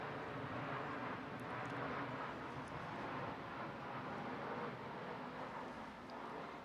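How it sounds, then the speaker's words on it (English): An airplane passes overhead as a steady, broad, distant roar, holding at a constant level throughout with no talking. "So as planes go by during this meditation"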